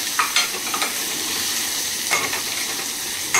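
Tomatoes go into a pan of onions fried until reddish over lowered gas, giving a steady sizzle with a few scraping stirs of a utensil against the pan.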